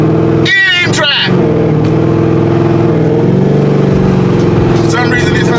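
A loud 800 hp Corvette engine pulls hard on the road, its steady drone rising in pitch through the run, with brief road noise early on and no talk over it.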